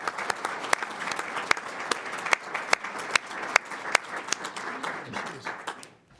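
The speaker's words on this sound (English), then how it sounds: "I think a round of applause to Pia Walker for the incredible work she does." A school board meeting audience gives sustained applause for a staff member, many hands clapping in a thick, even wash punctuated by louder single claps, tapering off abruptly at the end.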